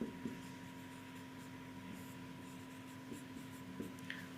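Faint, sparse scratches of a pen or chalk while a definition is written out in a classroom lesson, heard close against a steady low hum.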